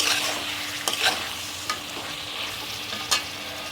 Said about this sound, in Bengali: কাশ্মীরি লঙ্কাটা দেওয়ার পর একটু নাড়াচাড়া করে নিয়ে